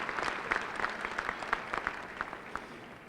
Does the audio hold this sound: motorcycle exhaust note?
no